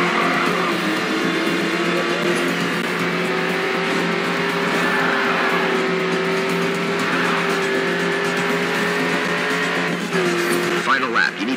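Race cars roar in a loud, steady engine drone in the Grid 2 racing game, with tires squealing and skidding as a car spins out toward the end, continuous and close.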